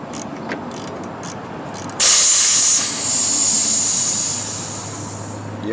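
Pressurized refrigerant escaping from a loosened A/C line on a 2011 Ford Fusion: faint clicks, then a sudden loud hiss that rushes out and slowly eases over a few seconds, close up.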